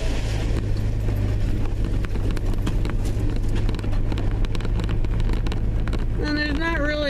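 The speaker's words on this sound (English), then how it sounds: "I'm in a truck." A truck rolls slowly along a drive through Pammel Park, its engine giving a steady low rumble mixed with wind buffeting the microphone, and a voice briefly rises near the end.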